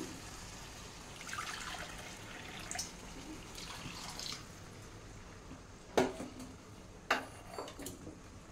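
Water poured into rice in a pot for a kabuli chana pulao, soft faint splashing followed by a couple of sharp metallic clinks and drips, quiet and close, no speech.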